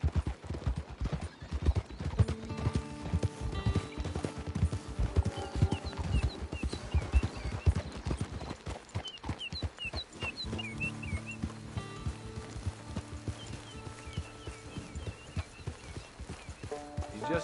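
Horse hooves clip-clop in a steady walking rhythm on the ground, close and prominent, with some talk and background music.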